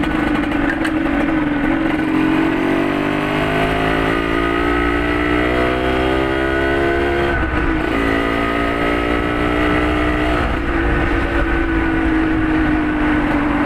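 A DT125 motorcycle, just fixed after failing to start, ridden at a gentle pace without hard acceleration: a loud, close, continuous two-stroke engine drone with small rises and dips in pitch as it cruises, no talk.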